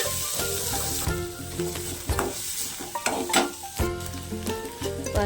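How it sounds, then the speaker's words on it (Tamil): Two sliced large onions sauté and sizzle steadily in hot oil with fennel seeds, close up, while a spoon stirs and scrapes the pan now and then, for a raw-banana fry. "பாருங்கள், வெங்காயம் இந்த அளவுக்கு வதங்கிடுச்சு."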